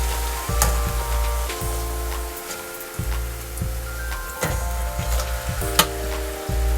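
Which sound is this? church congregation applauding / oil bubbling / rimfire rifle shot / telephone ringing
oil bubbling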